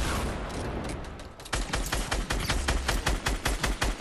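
Rapid gunfire in the Fortnite battle royale game, a dense burst of repeated shots starting after a quieter stretch and continuing in quick succession, loud and close.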